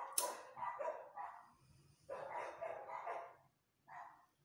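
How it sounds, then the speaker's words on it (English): Several dogs bark outside in bursts, a volley of sharp, fairly close woofs and yips with brief gaps between them, no voices over them. "I guess I'm gonna try and talk over the dogs that bark because they are not going to stop anytime soon"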